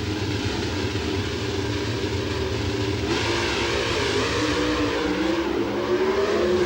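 Pro stock drag race cars at a 1995 national event in Fairfield, Illinois, roaring in a steady, dense engine blare that holds loud throughout, with a rising whine near the end as the cars pull away.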